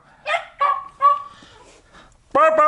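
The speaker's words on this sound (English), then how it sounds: "Bark, bark, bark, bark, bark," A dog barking and yipping up close at home: four short, loud, high barks, the last one sharper and doubled, with brief pauses between them.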